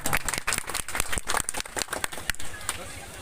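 A crowd applauding at an outdoor political gathering in a panchayat hall area: dense, rapid clapping mixed with a talking voice, busy and close, thinning slightly toward the end.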